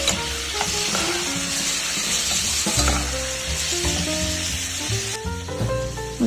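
Ingredients stirred while frying in a pan, with steady loud sizzling and crackling and repeated scraping of a utensil against the pan, close up and without speech.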